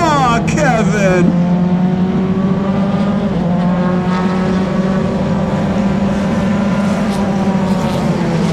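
Single-seater race cars scream past on a track, a high engine whine sweeping down in pitch at the start, then a steady loud drone of several cars under commentary.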